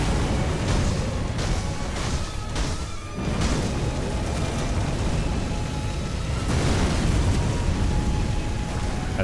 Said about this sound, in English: That's definitely a bigger explosion than before.